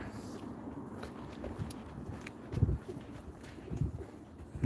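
Pigeons coo softly a few times in low, throaty bursts, moderately close, against a quiet outdoor background in Carberry, Manitoba.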